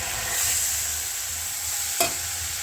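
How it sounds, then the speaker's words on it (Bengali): A water-mixed spice paste fries in a pan, a dense continuous sizzle close by, with one sharp scrape or clink near the end and no speech. "এই মশলাগুলো যেগুলো আমি জল দিয়ে গুঁড়ো রেখেছি সেগুলো এটার মধ্যে দিয়ে দেবো"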